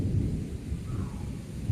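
Low thunder rumbles through steady rain and wind, a soft, continuous growl that stays fairly faint and distant with no talk.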